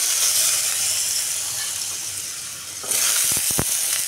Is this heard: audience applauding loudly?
no